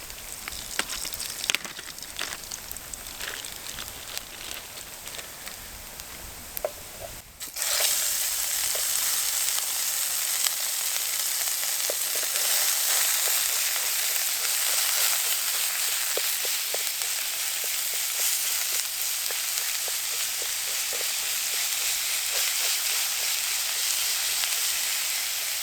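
Minced beef hits hot oil in a pot on a Trangia camping stove, jumping from a quieter crackle into a loud, steady sizzle that holds for the rest of the stretch, close up with no talking.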